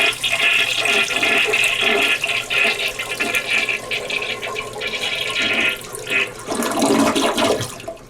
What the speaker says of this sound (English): Let's give it a little flush.